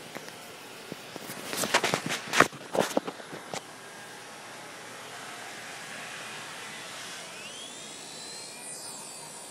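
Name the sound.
Genius CP remote-control helicopter flying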